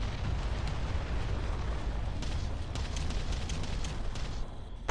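Artillery barrage explosions from the real-time strategy game Ground Control, a dense, continuous rumble of distant blasts with faint pops layered over it, ending in a sharp louder hit.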